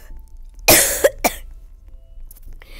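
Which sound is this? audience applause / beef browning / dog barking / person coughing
person coughing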